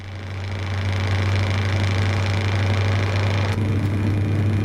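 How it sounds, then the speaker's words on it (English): A Scania truck engine in Euro Truck Simulator 2 drones steadily with a deep low hum, loud and continuous throughout with no talking. "Beast of sound on this Scania"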